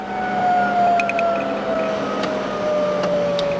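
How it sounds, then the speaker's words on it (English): A Lockheed T-33 jet engine winding down after its high-pressure fuel cock is shut off. A steady turbine whine slowly falls in pitch, with a few faint clicks scattered through it and no voices. "turn the high pressure fuel cock off, kills the engine"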